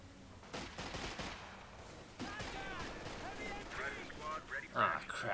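Machine gun fire in the WWII strategy game Company of Heroes 2, rattling bursts and distant battle noise under excited voices.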